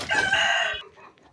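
A close farm chicken gives one loud, sharp, shrill call lasting under a second, then fainter clucking trails off into quiet.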